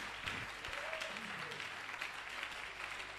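A church congregation at a revival service claps in a steady, fairly faint burst of applause, with a few voices mixed in.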